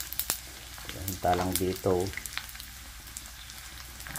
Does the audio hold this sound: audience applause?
no